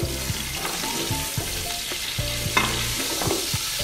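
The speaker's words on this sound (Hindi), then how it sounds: "चिकन को इसी ऑयल में हमने शैलो फ्राई कर लेना है।" Chicken shallow frying in hot oil for Afghani pulao, a steady, close sizzle that runs throughout with stirring scrapes and a few sharp pops, no voices.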